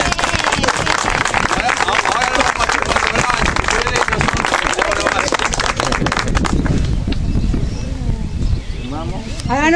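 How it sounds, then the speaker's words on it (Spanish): A neighborhood crowd at a campaign event in the Gándara district claps hard and continuously, a thick loud wash of hands that thins toward the end as the cheering fades. "Un aplauso,"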